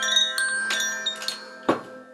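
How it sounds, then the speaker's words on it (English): Chimes ring softly during a guided new moon meditation, several shimmering metallic strikes with long sustained tones overlapping, plus a lower struck chime near the end, gentle and unhurried with no talking. "let's just imagine with these sounds of these chimes"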